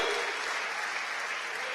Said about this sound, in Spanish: Démosle palmas a Jesús